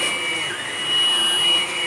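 Close, steady drone of a Hoover Blade Plus vacuum working over carpet, its whining motor tone wavering slightly as it moves, with nothing else audible.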